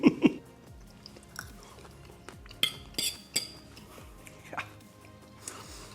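Crunchy bites and chewing on crispy deep-fried Japanese pork tonkatsu, close up, with a few loud crackling crunches at the start and quieter chewing and faint utensil clinks after.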